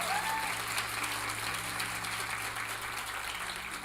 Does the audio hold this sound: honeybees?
no